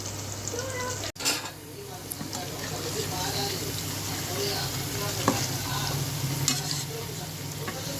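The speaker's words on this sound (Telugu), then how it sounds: "చికెన్ ఫ్రై కూడా ఒక పక్క మనకి అయిపోతుంది" Chicken fries in a pan with a steady, soft sizzle and occasional stirring clatter, close but fairly quiet throughout, with a sharp knock near the start.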